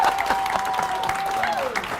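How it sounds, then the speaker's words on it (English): Audience applause at a 100th birthday celebration, steady clapping from a room of people over about two seconds, with a faint tone and some voices mixed in. "Let's give her a round of applause."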